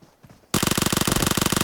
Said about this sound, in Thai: ยิงขู่ไปเลยฮะยิงตุตีขู่ไปเลยฮะ